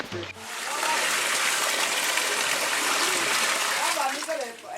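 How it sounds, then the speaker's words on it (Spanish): Waterfall water rushing and splashing down near a river in West Africa, a loud, steady broadband roar that rises quickly and holds throughout. "El agua de la cascada la vienen a recolectar aquí."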